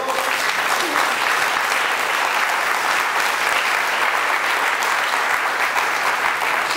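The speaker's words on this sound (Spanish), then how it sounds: "Dale un fuerte aplauso al Señor." A church congregation claps together in strong, continuous applause that fills the room evenly from start to finish, dense and loud with no gaps.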